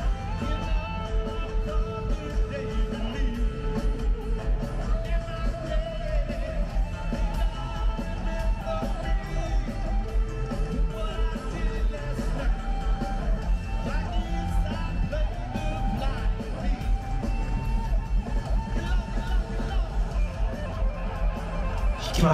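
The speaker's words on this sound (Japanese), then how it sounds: "これ基本 DS2 の音ですからね" An electric guitar through a Boss DS-2 distortion and a wah pedal, played live at a concert at Tokyo Dome, carries continuous riffing notes under busy band and crowd noise, with voices audible at times.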